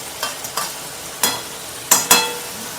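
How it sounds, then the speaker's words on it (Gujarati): Tomatoes are added to a frying pan of crushed chilies for a Gujarati sev shaak and stirred, giving about five sharp scraping strokes of a spatula over a soft, steady sizzle, close by and without voices. "ટામેટાં નાખી દઈશું."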